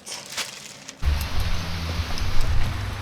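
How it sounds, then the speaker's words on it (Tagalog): Heavy rain heard from inside a moving car on the way to a marathon at a naval base, a broad steady wash that swells after a sudden onset, with low road rumble beneath. "Kaya lang, sobrang lakas na ng ulan."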